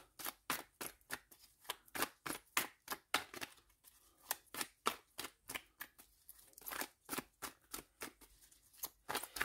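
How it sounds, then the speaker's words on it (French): A tarot deck is shuffled and cut close up, giving a long series of soft, rhythmic riffling swishes about a second apart, quiet and without speech. "on va faire une coupe et un tirage en 9"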